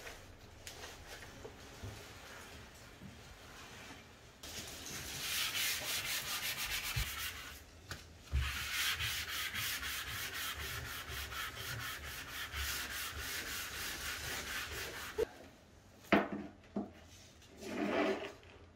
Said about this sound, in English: use that super fine grade sanding sponge once this water is dry and just lightly sanded the surface